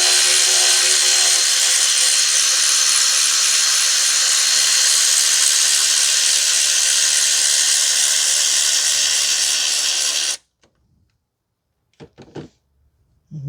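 Loud, steady hiss of a power tool running on a 12 mm drive belt adjustment bolt of a 2010 Toyota Corolla 1.8 engine, holding for about ten seconds and then stopping abruptly, followed by a few faint clicks.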